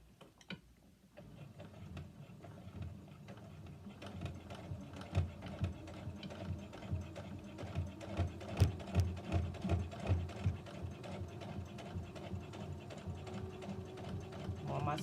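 A sewing machine stitching a pleat on a face mask, its rapid mechanical ticking rising and running in bursts, fairly quiet and close, with a few faint background noises.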